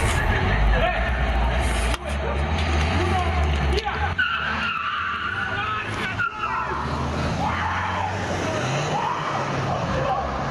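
Street racing cars on a town road with a roundabout, tires skidding and squealing loudly over roaring engines in a continuous dense stretch, with a voice talking faintly underneath.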